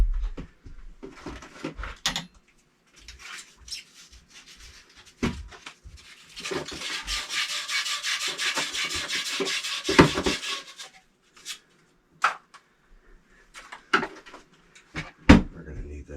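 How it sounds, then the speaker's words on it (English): Sandpaper rubs wood during a water heater and gas line install, one sustained gritty sanding stretch in the middle, framed by scattered knocks and clunks. "We're gonna need that sandpaper again."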